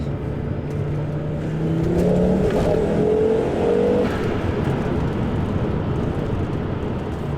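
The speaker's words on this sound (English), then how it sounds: "And then you have that engine again with the turbo, and it is just incredible." A Volvo 850 Turbo's five-cylinder turbocharged engine revs steadily, a broad, loud drone that rises and falls in pitch around the middle before settling back to a constant hum, with no voices.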